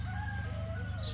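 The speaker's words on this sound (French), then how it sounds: "notre superbe coq, Doudoune qui fait sa toilette" A rooster crows in a brief, drawn-out call, somewhat distant, over a steady low outdoor hum.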